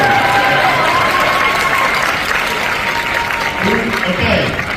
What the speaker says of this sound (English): A round of applause for this.